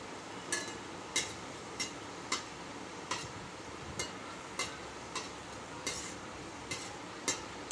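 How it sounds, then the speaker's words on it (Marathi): Shankarpali made from jowar flour frying in hot oil, with a steady sizzle under regular light clicks and scrapes about every half second as the pieces are turned over; no talking. "तर दोन्ही बाजूने छान आलटून पालटून आपण तळून घ्यायची आहेत"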